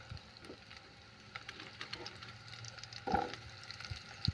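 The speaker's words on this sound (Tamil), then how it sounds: "வெங்காயம் வதங்குது" Onion sautéing in oil in a pan for a spicy chutney: a quiet, intermittent sizzle with scattered crackles and a clink of a utensil, no voices.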